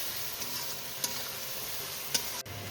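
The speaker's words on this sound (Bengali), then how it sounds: "এবার আমি তেল ছেড়ে আসা পর্যন্ত মশলাটাকে ভালো করে কষিয়ে নেবো" Spice paste cooked down in hot oil for a Bengali tangra fish curry with cauliflower and potato, a steady broad sizzle with a few sharp ticks of the spoon against the pan.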